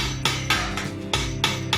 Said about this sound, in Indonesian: Oke, sudah selesai memukulnya, meratakannya.